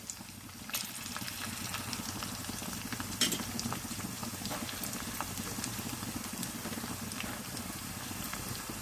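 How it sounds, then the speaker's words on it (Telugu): Onions and green chillies fry in hot oil for chicken kurma, giving an even, moderately loud sizzle with soft stirring scrapes and one brief clatter. "ఈ ఉల్లిపాయలు బాగా ఏగిపోవాలి,"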